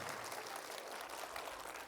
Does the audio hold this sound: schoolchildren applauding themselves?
yes